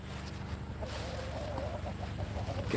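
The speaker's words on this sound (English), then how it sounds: "Stupid rooster, go away." Farm rooster clucking and calling close by in a steady run of short bursts over a low background, ending with a louder call.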